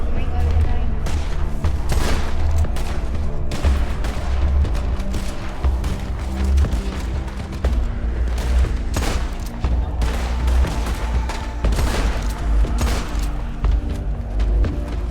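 Sustained gunfire in a WildRP Western roleplay video game, dense overlapping shots and booms that continue without a break for the whole stretch, loud and close, with talk mixed in.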